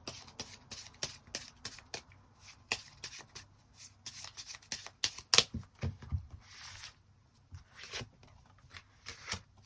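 Tarot cards being shuffled by hand, with a run of close, papery riffles and flicks in uneven rhythm and occasional sharper slaps of the deck, with no voices.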